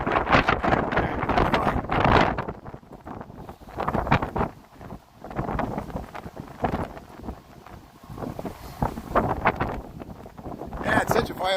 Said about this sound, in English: It's very windy. These tall buildings don't make it easy with the wind here.